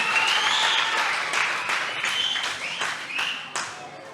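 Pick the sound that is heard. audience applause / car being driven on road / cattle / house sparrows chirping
audience applause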